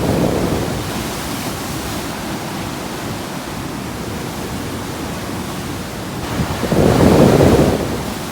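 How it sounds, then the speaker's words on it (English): Ocean waves surge into the Thunder Hole sea cavern at Acadia with a continuous broad roar of churning surf, building into a louder, deeper crash near the end. "when the waves rush back into it, the air is forced out with a loud clap like thunder"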